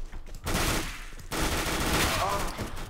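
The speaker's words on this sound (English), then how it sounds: "it's a long range kill with the MP9" Rapid MP9 submachine gun fire in Counter-Strike: Global Offensive, loud sustained bursts with a short break between them and a faint voice underneath.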